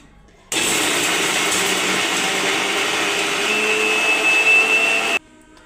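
A kitchen mixer grinder whirs steadily for about five seconds while grinding coriander, crushed peanuts, two green chillies and garlic into a coarse paste, starting and stopping abruptly, loud and close with no talk.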